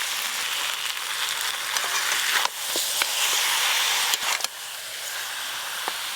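Ginger, garlic and green chili paste sizzles in a cooking pot with a loud, steady hiss, broken by a few sharp clicks and taps of a utensil, close and without talk.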